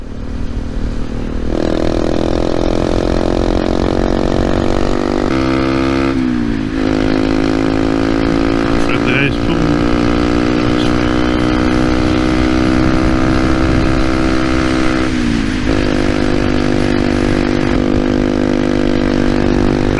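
Small Honda Monkey motorcycle engine buzzing loudly and close while riding on a rural road, revs rising and falling with a couple of sharp dips as gears change.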